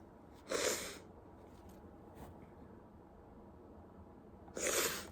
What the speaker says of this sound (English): Can you hear me sniffling due to the eyeliner?